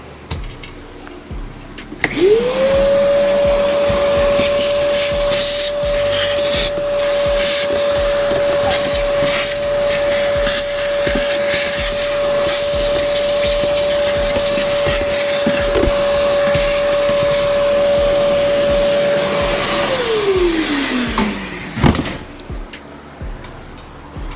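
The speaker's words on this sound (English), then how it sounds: "I'm gonna take my shop vac and vacuum that out." A shop vacuum whirs up to a steady loud drone, runs for about eighteen seconds with scraping knocks while cleaning out a 2023 Ram 2500 Cummins during service, then winds down and stops.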